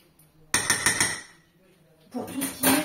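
Dishes clink and knock in a kitchen as a marinade is stirred and a small plate is set over the bowl: a burst of clattering strikes, a pause, then another run of ceramic taps, fairly close.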